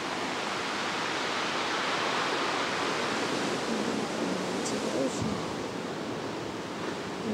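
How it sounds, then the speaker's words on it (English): Rough ocean waves crash on rocks in a continuous heavy roar of surf, steady and fairly loud, with a brief faint voice partway through. "You hear the waves crashing over there on the rock."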